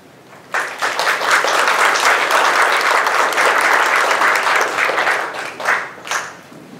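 An audience at a panel event aboard The Queen Mary gives loud, steady applause to welcome Dr. Michael McManmon, sustained for several seconds before thinning into a few last claps.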